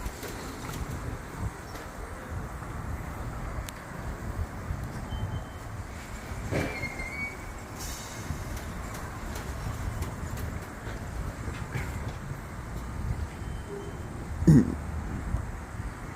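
A PATH train rumbles at Harrison station in a continuous, moderately loud roll, with faint clicks and a short squeal partway through, birds chirping in the background, and a sharp knock late on.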